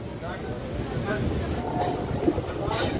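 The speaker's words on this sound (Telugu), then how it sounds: "మన ట్రైన్ కూడా బయలుదేరిపోయింది" A MEMU passenger train rumbles low and steady as it departs Bhimavaram Junction, with occasional metallic clanks and rattles, while people talk nearby.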